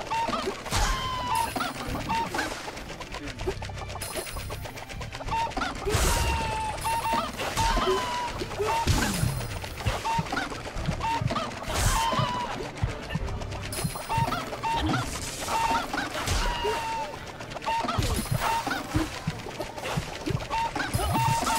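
Clucking chickens from a video game rise through a dense, busy game soundscape with music and clattering effects, the bird calls repeating irregularly at mid loudness for about twenty seconds.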